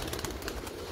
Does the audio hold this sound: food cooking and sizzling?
no